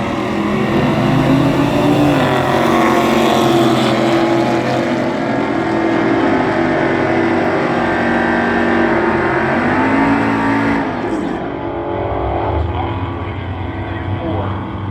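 A jet-powered Freightliner truck races down a drag strip at speed, a loud, sustained roar with a steady whine that holds for most of the stretch before easing slightly near the end.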